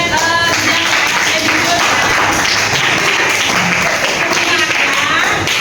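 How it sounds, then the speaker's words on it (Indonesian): Classroom clapping: a dense, steady burst of many hands applauding together, loud and close, with voices mixed in. "Tepuk tangan buat"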